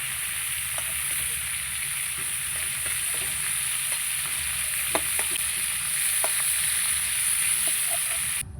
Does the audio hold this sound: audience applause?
no